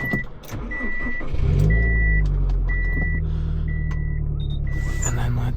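A Subaru STI engine cranks briefly, then catches and settles into a loud, steady, deep idle inside the car, with a few small clicks and beeps over the rumble.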